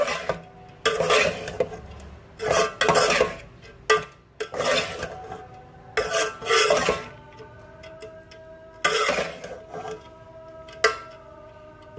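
A spatula stirs chicken chilli with green spring onion tops in a pan, giving loud bursts of scraping and clatter in irregular strokes, separated by brief quiet gaps.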